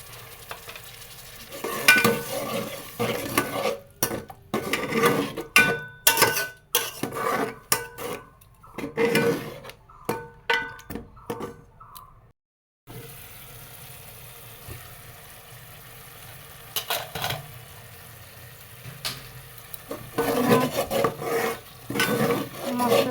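Ground spices cook down with fried onion and garlic in a pan for khichuri, loud rhythmic scraping stirs over a continuous sizzle, pausing briefly midway before quieter frying resumes.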